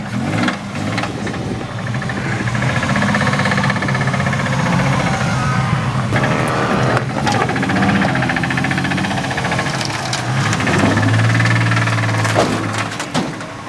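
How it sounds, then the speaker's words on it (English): A Ford Mustang with a rod knock idles close and loud, its rough, pulsing engine note steady throughout. "Trying to load a Mustang with a rod knock onto a trailer"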